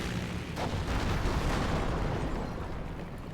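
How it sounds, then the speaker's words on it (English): Heavy bombing run explosions in the real-time strategy game Company of Heroes, with a dense rumbling blast wash that swells and holds for a few seconds of continuous low booming. "and here comes the bombing run"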